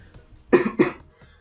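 Two close, hoarse coughs in quick succession from a man who is very sick, loud against a quiet room with no talking.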